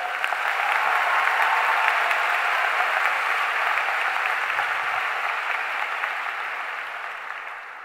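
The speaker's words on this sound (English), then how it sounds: "give a big round of applause to everyone here and to yourselves" Large graduation audience at a high school ceremony applauding, a broad, sustained wash of clapping that holds steady and slowly fades toward the end.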